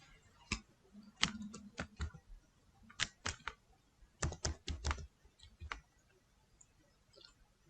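Keys clicking on a computer keyboard while a password is entered, a quiet close-up run of crisp taps in short irregular bursts with pauses between them.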